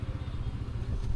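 A 2025 TVS Apache RTR 160 2V motorcycle held in second gear, its mid-pitched engine droning steadily and close throughout a short stretch of riding, with no voices.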